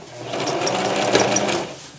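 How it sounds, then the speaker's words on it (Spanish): A sewing machine stitching the front and back darts of a wrap dress, a close, continuous, steady mechanical whir that holds at even loudness throughout. "Entonces vamos a coser."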